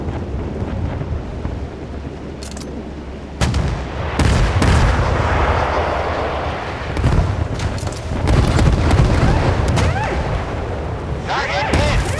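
Warship guns firing in the Force of Warships naval combat video game: heavy booming salvos burst out repeatedly over a constant rumbling roar, loud and close, with game voice lines talking during the battle.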